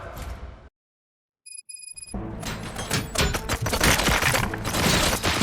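Gunfire in the video game Robocop: Rogue City, a dense burst of loud shots erupting after a brief silence and a few electronic beeps, continuing as rapid sustained fire with thuds through the rest of the moment.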